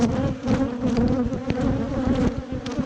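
Honeybees buzz at an open hive, riled up by stormy weather, in a dense, continuous close drone with no voices.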